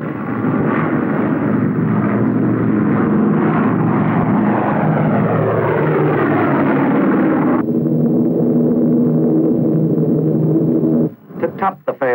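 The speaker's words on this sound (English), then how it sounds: "drone jets, pilotless, crewless, at super speed flown up into the night sky" Pilotless drone jet aircraft in a 1951 newsreel of Operation Greenhouse atomic tests, a loud, roaring jet rumble that sweeps and shifts in pitch as it passes, then settles into a lower drone before cutting off.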